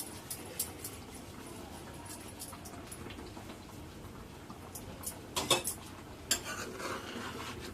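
Butter chicken is stirred in a pan, giving soft scraping and a few light clinks of a spoon against metal, faint and intermittent over a low background hum.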